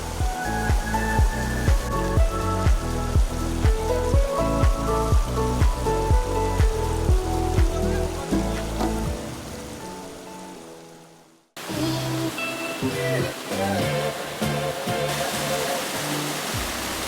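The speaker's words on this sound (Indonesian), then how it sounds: "Spot yang satu ini sering disebut air terjun mini oleh para pengunjung." A small campsite waterfall, a mini cascade, rushes steadily, first partly covered by rhythmic music, then heard alone as a loud, even wash after a brief dropout.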